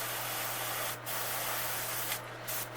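Airbrush spraying black paint onto the back, spine and nose of a hand-painted bluegill fishing bait, heard as a brief hiss near one second and two short bursts later, close, over steady low hum.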